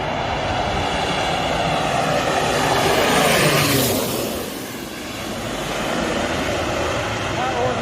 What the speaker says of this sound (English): This plane picking up water from a river.